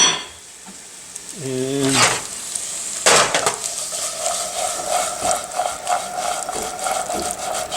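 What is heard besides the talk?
stirring corn and onion cooking in a pan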